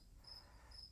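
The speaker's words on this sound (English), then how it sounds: "those crickets are just like screaming" Crickets chirp in a faint, steady high trill that pulses slightly over a brief moment, with no talking.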